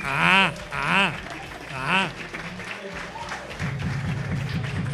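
A rock show audience bursts into applause with whoops and cheers. The clapping swells and keeps going, loud and dense, with no talk over it.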